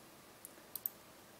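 Three light, sharp computer mouse clicks, close and faint, spaced unevenly over a near-silent room, the last two coming in quick succession.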